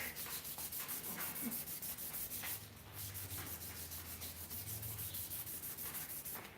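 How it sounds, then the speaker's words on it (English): Rhythmic back-and-forth rubbing of sandpaper along the grain of a wooden knife handle, soft and close, with steady strokes and a low hum underneath. "So sanding with the grain is going to give you your best finish."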